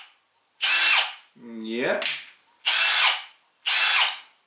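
Ryobi ONE+ cordless drill/driver revving in three short loud bursts near the listener, with a brief spoken word between them.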